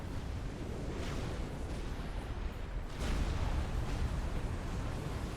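Cruisers launch missiles amid a naval battle in the strategy game Supreme Commander: Forged Alliance, producing a dense, continuous rumble of artillery-like blasts and explosions, with a heavier burst of impacts partway through.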